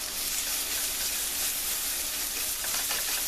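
Butter sizzling in a hot frying pan, a steady bright hissing crackle that stays even for a few seconds, close by and without any talking.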